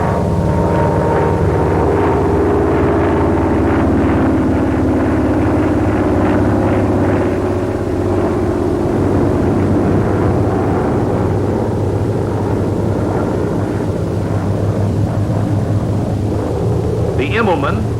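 A loud, steady piston-engine roar from an F4U Corsair fighter aircraft performing aerobatic maneuvers such as loops, droning continuously with a slowly shifting pitch as it passes overhead, a narrator's voice faintly mixed beneath.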